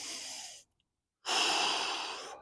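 Two deep, close breaths during a plank exercise, a long exhale, a pause of silence, then a strong inhale or exhale, with no talking.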